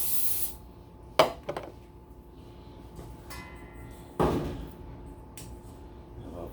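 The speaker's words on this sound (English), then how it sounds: "I'm going to spray this thing with oil too," Short hissing bursts of aerosol cooking oil spray, two or three quick sprays with quiet pauses between, close by.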